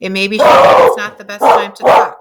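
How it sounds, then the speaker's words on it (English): A dog barks several times up close, loud sharp barks interrupting a person who is talking. "Sorry about that. That was my dog."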